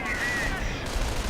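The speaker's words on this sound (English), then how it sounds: "Warframe barrage up here gets a good strike." Rocket artillery barrage from a German Werfer launcher striking in Company of Heroes, a dense, continuous rumble of blasts and crackling impacts mixed with battlefield noise and talk throughout.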